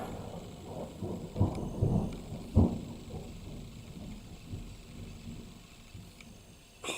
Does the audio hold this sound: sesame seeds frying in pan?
no